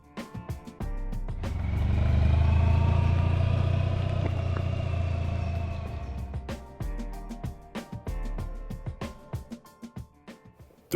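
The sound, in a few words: Honda ST1100 touring motorcycle riding off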